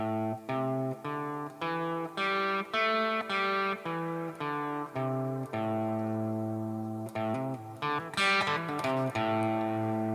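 Electric guitar runs quickly up and down a short minor pentatonic scale, single notes picked in even succession, ending with a brief flurry of notes.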